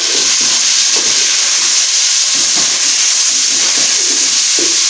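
Onions and ingredients frying in a pot for aloo gosht, a steady loud sizzling hiss throughout with faint stirring knocks, no voices.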